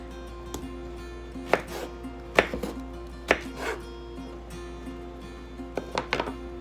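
A knife chops vegetables into wedges on a board while a seafood boil is being prepared: a handful of sharp, irregularly spaced thunks close by, with quiet pauses between cuts and no talking.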